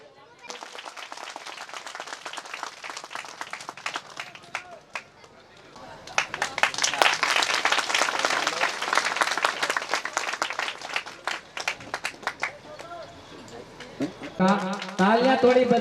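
An audience at a Kali Puja stage event claps, starting as scattered patter, swelling into sustained applause, then thinning to sporadic claps, while someone speaks over a loudspeaker.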